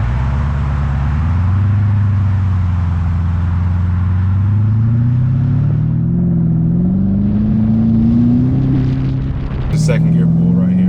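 A Porsche Cayenne Turbo with its muffler deleted pulls hard in second gear, a loud, deep exhaust roar climbing steadily in pitch before a quick shift, heard from inside the cabin.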